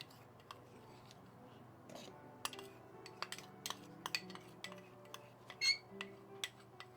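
Homemade baking powder ingredients are shaken inside a closed airtight container, giving sparse, irregular clinks and rattles at close range against a quiet background.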